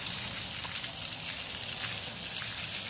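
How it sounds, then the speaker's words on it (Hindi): Steady rain falls without a break, an even, continuous hiss that stays loud and unchanging throughout, with no voices. "बारिश है और ये रुकने वाली नहीं है"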